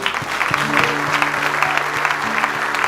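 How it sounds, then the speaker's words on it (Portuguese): Congregation at a Sunday church celebration service applauding the Lord, a dense steady clapping close and loud, with a low sustained tone of music and murmured voices underneath. "Vamos aplaudir ao Senhor."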